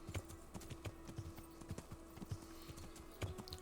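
Horse hooves clip-clopping in the medieval video game Kingdom Come: Deliverance, a steady rhythmic trot of soft, fairly faint hoof thuds over a low ambient hum.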